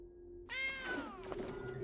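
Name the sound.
cat meow sound effect in video game MTG Arena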